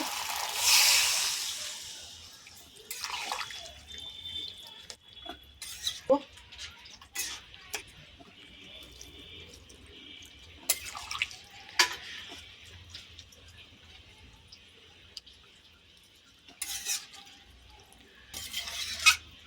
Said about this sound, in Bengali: এবারে জল দেব অল্প করে